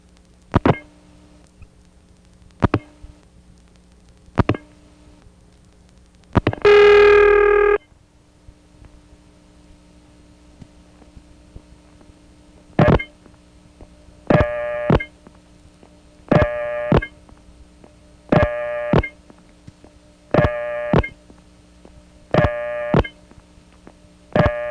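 Early telephone trunk line in Colonial Beach, Virginia, 1976, with N1 carrier tones: a series of sharp clicks, then a short burst of a steady tone, followed by a string of evenly spaced tonal beeps over a low background hum.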